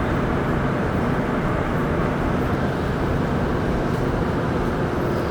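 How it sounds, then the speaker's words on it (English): A Montreal STM Green Line metro train running toward Montmorency on a morning during a transit strike, heard as a loud, steady, unbroken rumble with no voices. "So that's probably the last train going in the Montmorency direction for this morning as well."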